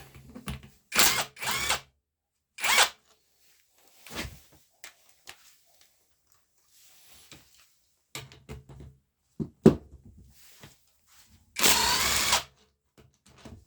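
A cordless impact wrench bought from AliExpress loosens and tightens nuts in several short, sharp bursts of rattling whir, separated by near-silent pauses, with the last burst the longest.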